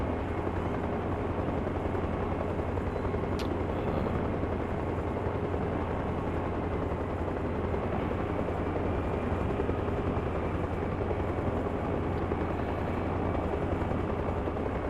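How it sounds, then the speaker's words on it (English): Helicopter in Arma Reforger climbing to a hover: a constant, loud, droning rotor-and-engine roar with no break, steady throughout. "gonna raise my copter up"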